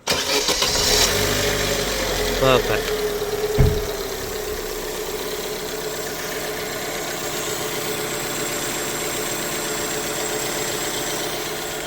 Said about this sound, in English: Just going to start the car up.